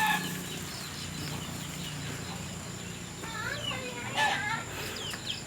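Chickens cluck softly in the background, with a few sharper calls near the end, while a person talks quietly at a distance.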